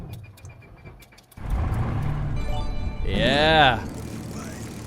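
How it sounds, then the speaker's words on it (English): Squeaky start-up of a Spitfire engine in Microsoft Flight Simulator 2020, a rising and falling whine over a steady engine drone, preceded by a brief spoken word. "Now that squeak in starting this plane, that's from the Spitfire."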